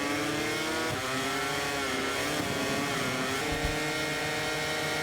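A Honda racing motorcycle at Mugello in MotoGP 24: a loud, high-pitched engine wail held steady, rising and falling slightly as it shifts, with other bikes' engines blended in.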